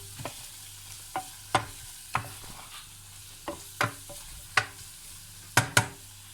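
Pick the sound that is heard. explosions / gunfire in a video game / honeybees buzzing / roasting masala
roasting masala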